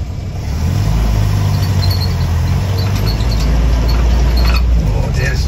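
A 1981 Land Rover Lightweight engine idles loud and close with a steady, rough rumble running throughout, a faint squeal flickering over the top, after a brief quieter start.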